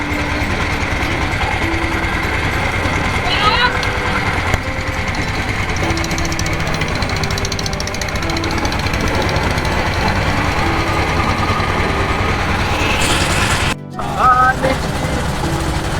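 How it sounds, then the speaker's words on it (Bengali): A river trawler boat's engine chugs steadily nearby with a rough, knocking rhythm, running continuously, with open-water wind noise and a brief dropout near the end. "এই পাশ দিয়ে আরেকটা ট্রলার যাচ্ছে।"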